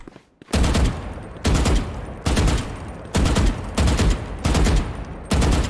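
Rapid bursts of gunfire in the video game Valorant, about seven loud, evenly spaced volleys of sustained automatic shots filling the clip after a brief quiet start.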